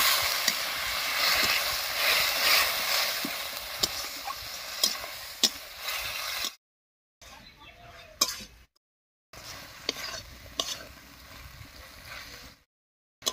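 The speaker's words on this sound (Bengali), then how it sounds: "এবার খুব ভালো করে কষিয়ে নেব" Potatoes stir-fried with ground cumin, coriander, ginger and garlic paste crackle and sizzle steadily in a pan, with sharp scraping stirs cutting through, broken by a couple of brief silent gaps.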